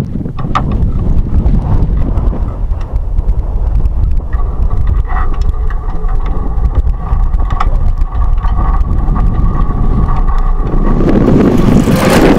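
Strong wind in the Sahara desert buffets the microphone with a loud, constant low roar that swells and gusts toward the end.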